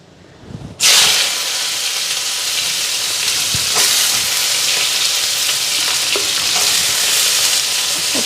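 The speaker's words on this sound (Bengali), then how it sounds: "একদম মচমচা কইরা ভাজা করো আজকে তিতা করলা" Bitter gourd hits hot oil with black cumin and dried chillies, bursting into a loud, close, continuous sizzle after a brief quieter moment, with occasional stirring clicks as it fries crisp.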